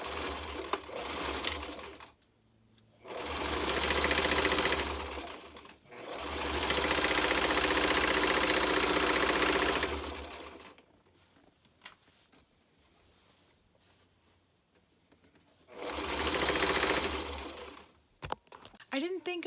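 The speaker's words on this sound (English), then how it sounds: "So I'm gonna go ahead and sew this line" A sewing machine stitches a seam on a cosplay dress, running in three long, loud, steady bursts with quiet pauses between them, and a voice talks during the gaps.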